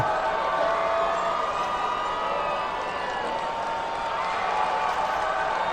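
A steady, continuous roar of an arena crowd cheering in Steins;Gate Elite, heard from a distance with no breaks or peaks.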